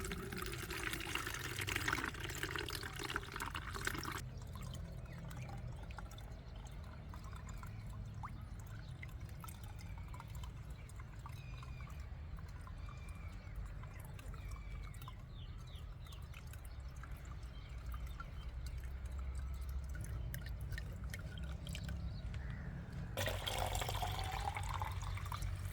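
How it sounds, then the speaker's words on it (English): Ginger-infused water is strained through cloth or a fine strainer, giving a steady, continuous pouring and trickling wash that runs for the whole stretch without speech. "strain the liquid carefully using cloth or fine strainer,"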